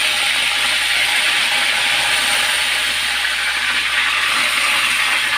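Curry leaves sizzle in hot oil in a kadhai, a steady, loud, dense crackling hiss that runs unbroken throughout with no voices.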